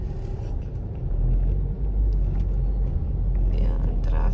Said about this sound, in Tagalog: Ayan, traffic.